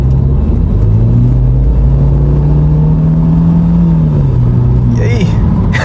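An old 2007 BMW with an engine oil leak accelerates hard, its engine a loud, steady droning hum that holds its pitch up close, with a brief voice near the end.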